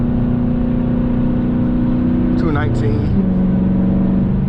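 Dodge Challenger engine held at raised RPM with a steady loud drone, rising briefly in a revving surge midway before settling into a lower tone, under a man's speech.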